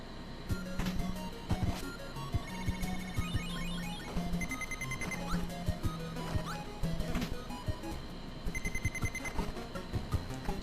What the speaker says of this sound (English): Sorry about the beeping.